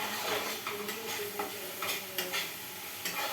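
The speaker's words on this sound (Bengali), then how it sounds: "এবার এটাকে ভালো করে বন্ধুরা হাই ফ্লেমে ভালো করে এটাকে কষাতে হবে।" Food being stirred and fried on high flame in a pan, a steady sizzle with soft scraping strokes of the spoon recurring every half second or so, close and fairly quiet, no voices.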